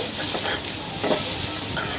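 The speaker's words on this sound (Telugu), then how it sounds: "ఉల్లిపాయ ముక్కలు తురుముకున్న క్యారెట్ వేసుకున్నాను వేసుకొని ఒక్క నిమిషం పాటు మగ్గించుకొని" Chopped onion and grated carrot sauté in a pan of tempered oil for a ragi flour dosa, a steady close sizzle broken by scraping stirs, with no talk.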